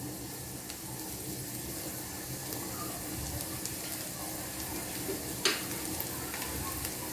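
Food sizzles steadily in a hot pan, a constant crackling hiss with a brief clink of a utensil partway through.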